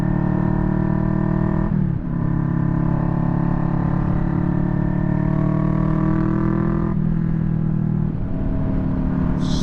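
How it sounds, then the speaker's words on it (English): A 2021 Kawasaki Vulcan S motorcycle with an aftermarket pipe produces an insanely loud exhaust. It gives a deep, steady rumble held close for nearly ten seconds, with two brief revs that dip and climb. No voices are heard. "what this bike does have, it's an insanely loud exhaust"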